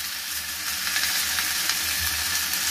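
Cluster beans sizzle steadily as they fry in a pan with turmeric, with soft scraping and stirring sounds rising over the continuous hiss; no one speaks.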